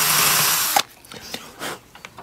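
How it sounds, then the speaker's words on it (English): A power drill with a masonry bit whirs loudly into a piece of beech for under a second and then stops, leaving scattered faint knocks and handling noises. "using a nice masonry bit, small enough, we'll just drill a small little hole in here."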